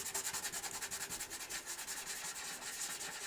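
Hand sanding of a Gibson J40 acoustic guitar's finish with 1500 grit sandpaper: quick, even back-and-forth rubbing strokes in a steady rhythm, close and soft, with no voice.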